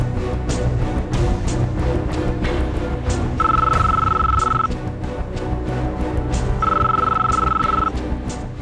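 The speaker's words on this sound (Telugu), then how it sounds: "స్వర్ణ ఫోను ఇక్కడే మోగుతుంది" A mobile phone rings indoors in two separate bursts of a steady electronic tone, heard over a dense, continuous background of music and ambient noise.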